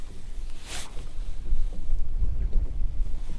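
Wind gusts across a lake during fall walleye fishing on Lake Sakakawea, a steady low rumble buffeting the microphone with one brief hissing gust, no talking.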